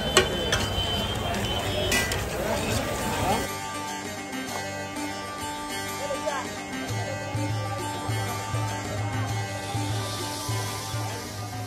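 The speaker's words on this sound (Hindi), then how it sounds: "अब धीरे धीरे उन्होंने अपने उस मैजिक मसाले को हिलाना शुरू कर दिया था" Magic masala spice mix is stirred in a street-food pan, with a clatter of metal utensils scraping and tapping against it at first, then a steady sizzle with light scraping, amid busy street background noise.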